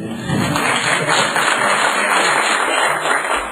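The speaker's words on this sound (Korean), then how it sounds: "박수 한번 치세요" Audience applause at a South Chungcheong election campaign committee meeting, a thick continuous clatter of clapping filling the room, fairly loud, with little talk.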